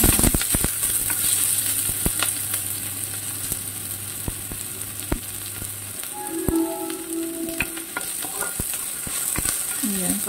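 Garlic and onion sauté in a pan while making yakisoba, a soft continuous sizzle punctuated by sharp clicks and scrapes of stirring, with a brief faint voice partway through.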